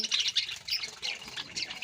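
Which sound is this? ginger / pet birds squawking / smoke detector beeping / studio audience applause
pet birds squawking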